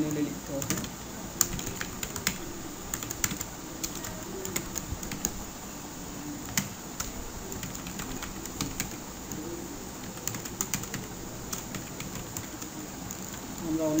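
Someone types Bootstrap navigation HTML on a computer keyboard: steady, quick clusters of light key clicks with brief pauses run throughout, close and moderately loud.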